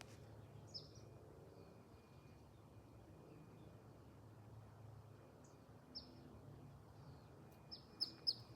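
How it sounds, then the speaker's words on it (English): Birds in a food forest with almond trees chirp in short, sparse bursts over a faint, quiet outdoor background, a few calls clustering louder near the end. "And there are always lots of birds."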